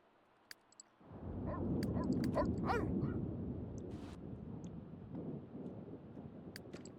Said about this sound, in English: You're a hyper little dog.